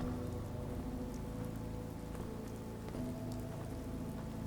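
Steady rain pours in a video game, a dense, even hiss of falling drops that carries on without a break over a low hum in the background.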